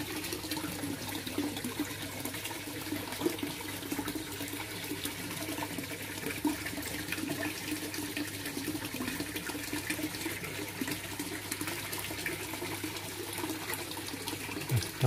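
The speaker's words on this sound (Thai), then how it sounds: "น้ำตกของเราครับผมนะ" Water from a small waterfall pours steadily into a backyard koi pond, a close, continuous splashing rush without pauses or talk.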